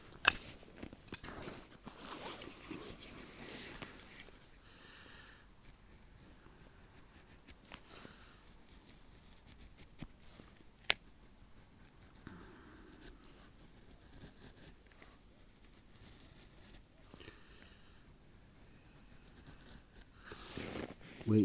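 Fine curls of wood shaved with a Manly Patriot knife in D2 steel, giving faint, close scratchy scraping strokes with small crisp crackles, louder bursts near the start and end.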